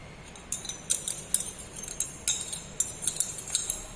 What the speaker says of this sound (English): Now wash the beaker and glass rod.